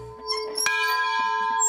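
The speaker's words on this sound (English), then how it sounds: "You ready to ring the bell?" A historic Chattanooga Choo Choo locomotive bell gives a single loud clang, its bright metallic tone ringing on with sustained overtones that slowly fade, close by and alone.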